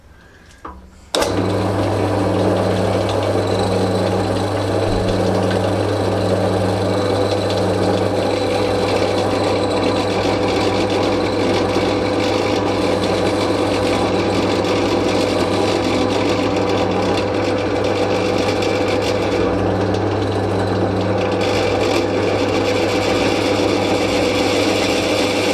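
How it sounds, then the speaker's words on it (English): Steady mechanical whir of a machine drilling into steel with a center drill bit, running continuously at close range after a brief start, with no voices. "I'm drilling at the moment."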